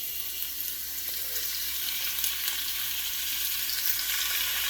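Thin beef slices for sukiyaki searing in a pan, a constant bright hiss of sizzling fat that holds steady and close throughout, with no talking.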